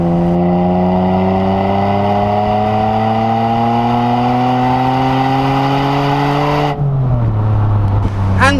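Ferrari engine pulls hard on an open road, its loud, close revs climbing steadily through a long gear before a quick drop at a shift near the end, with no talk over it.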